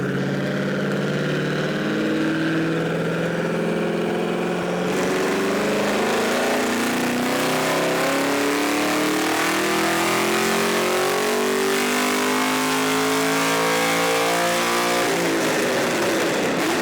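A GPI SS3 Camaro's engine revs hard on a dyno, pushed toward a 7,100–7,200 RPM redline, a loud continuous roar whose pitch climbs steadily over many seconds before dropping off near the end, no voices.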